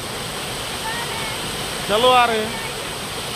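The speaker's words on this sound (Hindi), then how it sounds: "बहुत ही कमाल का जगह है ये झरना, देखिए लाजवाब" Steady broadband rush of a waterfall at a scenic spot near Darjeeling fills the scene continuously, with people talking briefly over the constant roar.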